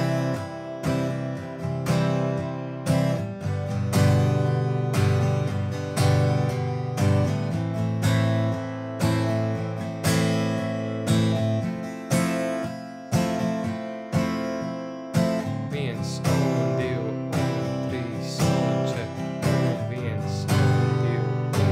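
Acoustic guitar strummed in a steady rhythm with chords accented on the second and fourth beats, giving a reggae-like feel; a close, loud, repeating pattern of sharp strokes with no voice.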